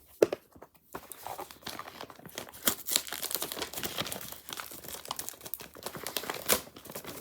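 Paper wrapping around an iron is crinkled and torn open from a package, with close, irregular crackles and rustles running throughout at a quiet level, without talk.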